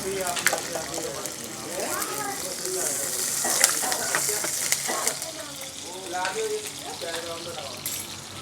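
Desi ghee heating and sizzling in a kadai before paneer goes in, a continuous close bright crackle with scattered pops and occasional clinks, and voices faintly underneath.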